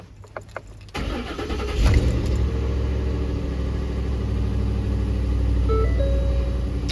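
A Ford car engine cranks briefly, catches with a rising surge and then settles into a steady, close idle that runs on to the end.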